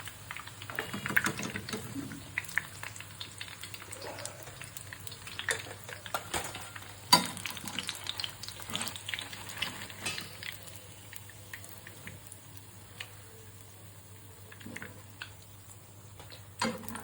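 Eggplant fritters (beguni) in hot oil give a soft, steady sizzle and crackle, with occasional clinks of a utensil stirring or turning them; faint and continuous, no talk.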